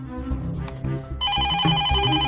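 In a 2008 Hindi comedy film, a telephone starts ringing partway through, a bright, repeated electronic ring that cuts in over quieter low sounds and continues to the end.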